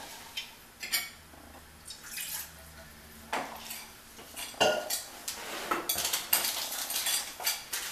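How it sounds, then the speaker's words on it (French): Spoon clinking and scraping in a bowl while boiled water is stirred together with agar-agar gelling agent for a turtle pudding, irregular bright metallic taps and clatters, close and fairly loud, with no talking. "je vais faire bouillir un petit peu d'eau et le mélanger avec de l'agar-agar, mon gélifiant"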